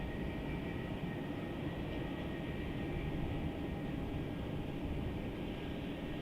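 Virgin Australia airliner inbound from Perth arriving on runway 34 at Melbourne Airport, a steady broadband jet roar that holds level throughout, moderately distant with no voices.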